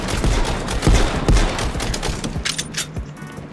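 Rapid gunfire bursts in Warzone played in VR, a dense stretch of overlapping shots and booms followed by a few sharper scattered pops, loud and close.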